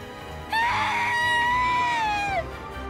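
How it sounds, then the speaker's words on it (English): A woman's piercing scream from the Umineko visual novel game, one long high sustained cry of about two seconds that rises sharply at the start and bends downward at the end, heard alone. "Kasumi let out a piercing scream."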